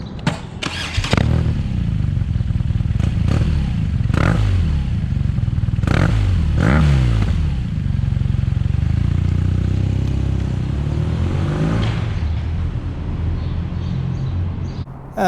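A 2023 BMW R nineT Pure motorcycle engine runs steadily and loudly up close, with a few sharp revs and clattery mechanical thumps over a continuous low rumble.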